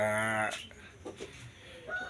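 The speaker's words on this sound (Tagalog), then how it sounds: "Yung mga alaga kong mga samo, mga manok." Shamo chickens in a small backyard coop, a rooster's harmonic crow cutting off into a few soft, scattered clucks nearby.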